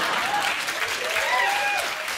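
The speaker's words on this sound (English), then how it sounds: "Applause in the audience." A television studio audience breaks into loud, sustained applause, dense clapping that fills the short moment from start to finish, with some voices faintly mixed in.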